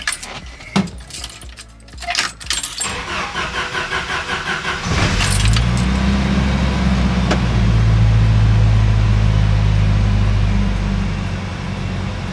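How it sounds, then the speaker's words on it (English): A 1988 Jeep Wrangler YJ engine cold-starts on a chilly 40-degree day: keys jangle and the starter cranks in quick rhythmic pulses before the engine catches and settles into a loud, steady idle. "here we go, cold start in the 88 YJ"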